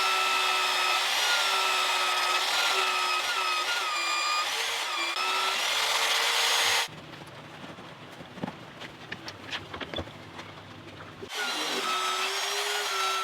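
A power tool cutting steel with cutting gel while rubber engine mounts are fitted to a steel bed: a loud, steady whine with shifting tones runs for about seven seconds, breaks into scattered scraping and clatter, then the whine returns.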